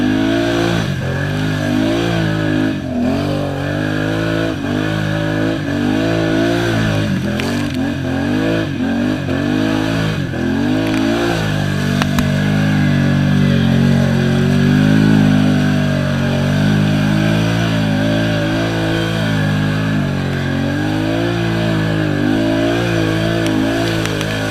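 An ATV fitted with Super ATV Terminator tires churns through muskeg, its engine droning and revving up and down continuously over a long steady stretch.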